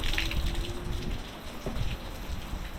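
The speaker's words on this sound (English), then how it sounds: "I'm gonna take some water out." Steady rush of water pouring out as a swimming pool is pumped down on a rainy day, a continuous splashing flow like a running tap, fairly close and constant throughout.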